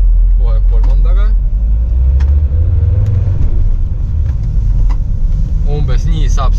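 A Volkswagen Multivan T5 van drives along with a low, loud engine rumble that rises and eases as it shifts from first to third gear, and someone talks over it at the start and end.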